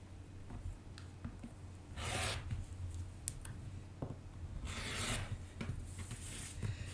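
A quilt fabric square is trimmed against a 6.5-inch square ruler: two bursts of rasping cutting stand out between softer rubbing and small clicks, all close and fairly quiet.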